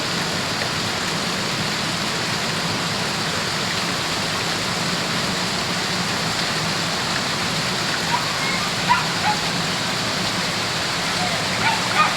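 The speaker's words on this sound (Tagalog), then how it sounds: "Binigyan mo kami ng malakas na ulan." Heavy rain pours steadily throughout, a dense continuous hiss with occasional louder drips near the end.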